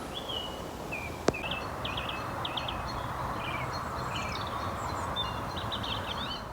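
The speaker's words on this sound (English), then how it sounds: "listen to the birds and watch the fish jump in the water" Several birds chirp and trill softly at a distance beside a city canal over a steady low outdoor rumble, with one sharp click partway through.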